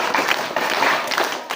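A class of primary school children claps in short rhythmic bursts on command, several quick groups of hand claps in a row, loud and close in an echoing room.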